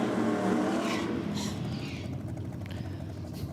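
A drag racing car with wheelie bars makes a pass down the track, a loud engine roar that gradually fades into the distance over a few seconds.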